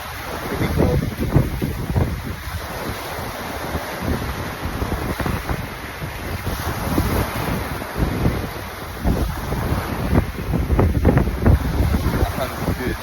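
Surf and wind on Bacacay beach in Albay, Philippines, a steady broadband roar with gusty wind buffeting the microphone and rolling wave wash throughout, close and fairly loud.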